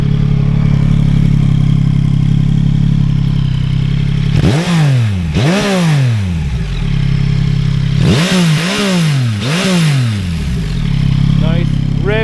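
A Yamaha MT-09 motorcycle engine revs hard in neutral, climbing toward high RPM in four loud, close blips, two pairs with a steady idle between and around them.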